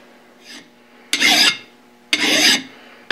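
A hand file rasps burrs off a spindexer part in two firm, close strokes, following a lighter first pass.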